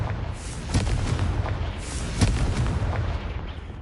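A Confringo fire spell explodes in Hogwarts Legacy, several booming bursts and blasts crackling over a rumbling background, loud and close, with no speech.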